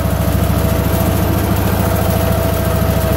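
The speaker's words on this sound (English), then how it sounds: "I can hear the bog in the load on the engine says it's moving oil." An Allis-Chalmers 712H tractor engine chugs steadily under load while pumping oil, with a low, throbbing rumble, close and loud, with no talking.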